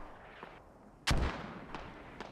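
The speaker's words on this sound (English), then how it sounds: "Mortars out." Mortar fire in the military video game Operation: Shockwave: one sharp, loud blast strikes with a heavy low boom after some quiet, followed by a couple of fainter distant thumps.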